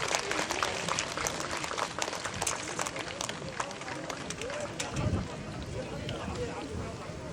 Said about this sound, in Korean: 네, 다시 한번 큰 박수 쳐주시기 바랍니다.